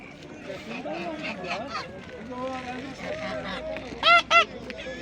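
Domestic geese at a Turkish poultry market honk in two sharp, loud calls near the end, over ongoing conversation and busy market murmur.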